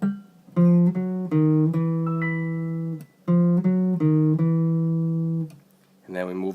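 Clear, close single electric guitar notes picked one after another in a short stepwise chromatic run of four, starting on the ring finger, then the same pattern played again, each note ringing out.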